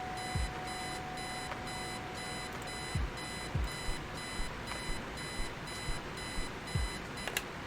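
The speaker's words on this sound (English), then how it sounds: "Eileen's obnoxious alarm clock." An alarm clock rings in the video game Kathy Rain, a steady rapid pulsing electronic beep repeating in even bursts, loud and continuous with no voices.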